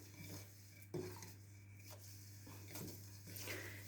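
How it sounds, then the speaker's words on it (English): Flapjack cookie ingredients being stirred together in a bowl, soft scraping and clinking of a utensil against the dish, faint and steady over a low hum. "We need to mix it all. Mix it all together."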